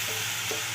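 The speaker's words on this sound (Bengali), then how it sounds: "একটু আদা রসুন বাটা দিয়ে একটু ভাজা হয়ে গেলে তার মধ্যে আমি টমেটো কুচিটা দিয়ে দিচ্ছি।" Chopped tomato goes into ginger-garlic paste frying in hot oil for a masala mushroom dish, giving a short, steady sizzle with a faint stir, heard alone and close.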